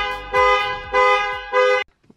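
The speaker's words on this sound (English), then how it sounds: "apparently unlocking the door from the inside of the car sets the car alarm off" Alarm of a Mercedes AMG GLE 53 blaring from close by, three loud harmonic horn bursts of about half a second each, separated by short gaps, followed by silence and a faint rustle.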